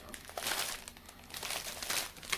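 An MRE ration pouch, a 2016 US Menu 7 beef brisket meal, is cut open with scissors, giving close, busy crinkling and rustling of plastic packaging over about two seconds, with no talking.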